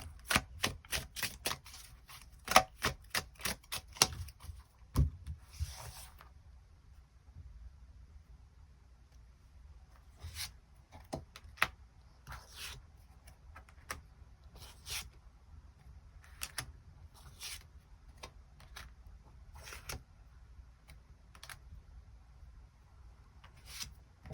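Tarot cards shuffled and drawn by hand: a quick run of crisp riffling clicks at the start, then sparse soft snaps and slides as single cards are pulled. Close, quiet and alone, with no voices.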